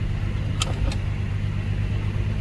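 A tuned Nissan GTR R35 idles steadily at close range, a smooth low engine drone held for a few seconds with two brief higher clicks near the start and no talking.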